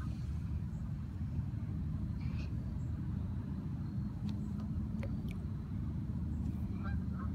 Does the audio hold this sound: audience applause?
no